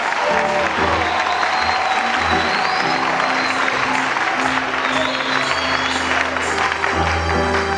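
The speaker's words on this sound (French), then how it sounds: "On acclame très fort, acclamons le Seigneur" Congregation applauds loudly at a Christian worship gathering, dense clapping and cheering over ongoing music with a steady low bass pulse, a continuous crowd roar throughout.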